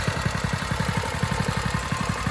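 Predator 212 engine on a mini bike running steadily close by, a loud, even rapid pulsing throb throughout with no pauses or speech.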